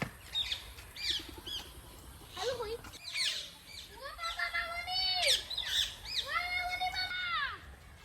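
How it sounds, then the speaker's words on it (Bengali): A flock of parrots at Garchumuk deer park squawking loudly: repeated harsh, rising and falling calls and chirps overlapping at close range, while a person talks excitedly over them. "আরে বাপ রে একদম এক ঝাঁক টিয়া পাখি এক ঝাঁক এক ঝাঁক বোন টিয়া অনেক টিয়া পাখি"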